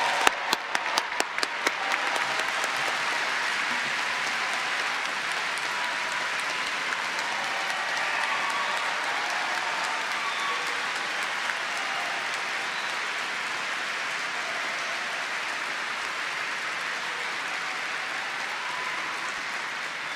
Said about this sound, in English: let's now give a big round of applause to our Masters on Science students